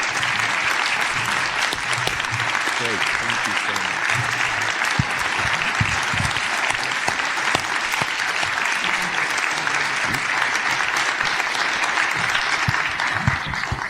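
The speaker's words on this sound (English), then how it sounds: "So I have heard applause like that for a long time at this meeting" A meeting audience at a diabetes care symposium applauds loudly and steadily, a dense wash of many hands clapping that holds at full strength for the whole stretch.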